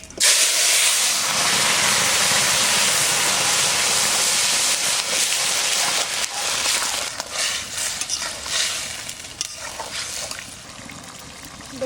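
Cumin and radhuni seeds sizzle in hot oil as a tempering for pumpkin greens, making a loud, continuous hiss with fine crackles that eases slightly toward the end.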